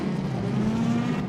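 Race cars roar in a Mercedes AMG e-racing video game, several cars bunched close together approaching a corner, a steady loud engine drone with a sustained tone throughout, no voices.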